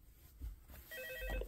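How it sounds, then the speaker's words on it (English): An old telephone in a night-watch office from a Five Nights at Freddy's 2 fan film begins to ring near the end, a brief, quiet electronic trill after near silence. "looks like that phone's ringing"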